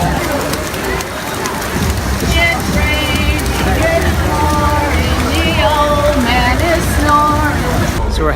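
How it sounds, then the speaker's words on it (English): Rain falls steadily at Epcot theme park during an evening festival, a constant dense hiss spread over the scene while crowd chatter and voices carry underneath. "it's still raining"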